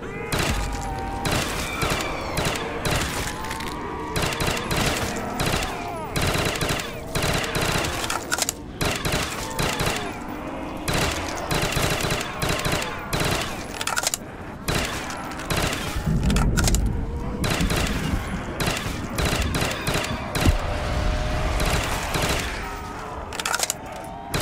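Rapid hip-fired gunfire in a Call of Duty custom zombies map, dense continuous bursts of shots rattling loudly and close for the whole stretch, with occasional heavier thumps mixed in.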